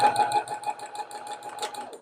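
A sewing machine stitches around an appliqué shape, a close rapid mechanical whir and tick in short bursts of stitching.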